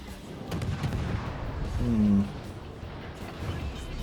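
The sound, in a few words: naval gunfire in World of Warships video game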